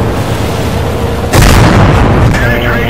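A Hellcat tank destroyer fires its main gun in World of Tanks: one sudden, loud, close blast cuts through the engine rumble and leaves a ringing, rumbling tail.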